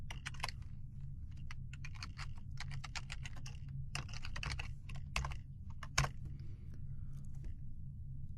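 Someone types HTML code on a computer keyboard, producing quick, uneven bursts of close, soft key clicks with short pauses in between, heard alone in a quiet room.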